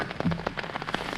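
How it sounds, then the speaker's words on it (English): Rain falling steadily outdoors on a surface, with scattered close drops and light patters over a soft continuous wash, no voices. "it's raining."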